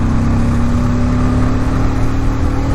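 A Bajaj Pulsar N250 motorcycle pulls hard in fifth gear, a loud, steady engine drone with a rising tone and heavy wind rush, with no pauses.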